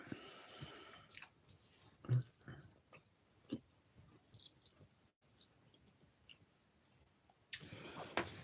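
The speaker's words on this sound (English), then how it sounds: "Hold on, let me chew this up." Quiet, close chewing of food by a person, with several soft crunchy bites and mouth clicks spread irregularly across the stretch, no talking.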